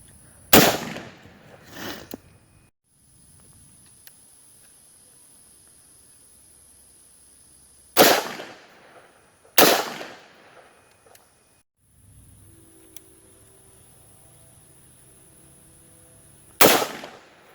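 An AR-15 rifle fires 5.56 mm 55-grain full metal jacket rounds at a homemade Mark II rifle armor plate, giving four loud, sharp reports spaced a few seconds apart, each trailing off, over a steady background hiss.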